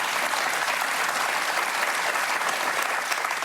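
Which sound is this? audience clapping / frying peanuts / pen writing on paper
audience clapping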